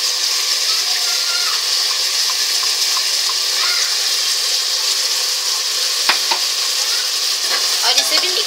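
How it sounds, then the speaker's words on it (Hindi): A red chili, ginger and garlic masala paste fries for mutton pulao, giving a steady bright sizzle in the pot, with a few close spoon clinks and scrapes toward the end and no speech. "अब हम इसमें जो हमने मसाले का पेस्ट बनाया था, लाल मिर्ची अदरक लहसुन का, वो डाल लेंगे।"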